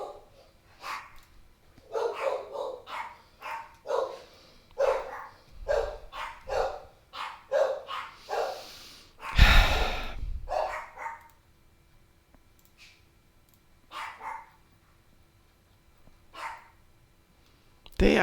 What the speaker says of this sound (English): They are lovely animals, but whew, they can get a little noisy sometimes.